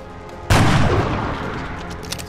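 Gunfire in the video game XCOM: Enemy Unknown, a single loud close shot bursting out with a long rumbling decay, followed by a faint later crack.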